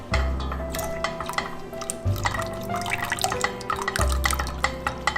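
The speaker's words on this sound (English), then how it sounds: "Now it's time to add in the soy sauce." Soy sauce poured into a cooking pan while making a broth-based sauce, a soft liquid dribble and drip with low thumps, close and fairly quiet.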